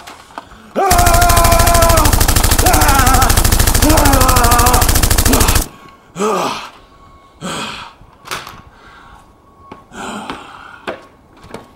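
A sustained burst of rapid automatic gunfire from a sound effect, loud and dense for several seconds, then cut off abruptly, followed by quieter breathy sighs and gasps.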